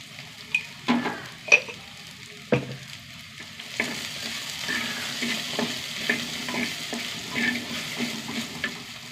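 Okra frying in a pan while a spatula stirs it, giving a steady close sizzle broken by sharp scraping clinks and knocks of the utensil against the pan.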